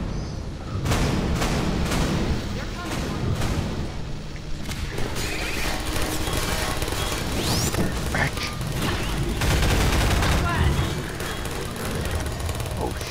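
Turrets fire during a Half-Life 2 co-op match in a dense run of sharp bangs, clanks and crashes layered over each other, loud and continuous, with occasional voices mixed in.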